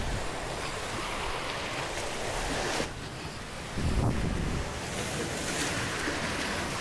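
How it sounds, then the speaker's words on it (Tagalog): Ocean surf breaking on a choppy shore, a steady close wash of waves with a louder surge near the middle, heavily mixed with wind buffeting the microphone. "Kalma sa laod pero sa baybayin maalon."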